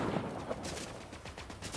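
Sniper gunshots in a video game, heard as a faint, distant series of sharp bursts repeating over a couple of seconds with no talk.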